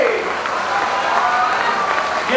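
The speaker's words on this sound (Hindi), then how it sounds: "जोर से ताली बजाइए।" An audience claps steadily and loudly at a Sanskrit language promotion speech event, a dense continuous applause filling the short moment without any talk over it.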